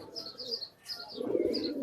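Pigeons in a fancier's loft cooing and chirping, with a brief pause before a louder, fuller coo rises near the end, accompanied by higher chirps.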